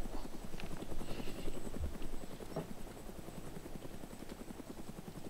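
A helicopter in the video game DayZ gives off a steady, rapid rotor chop at moderate distance, fairly quiet and continuous, with faint game sounds beneath.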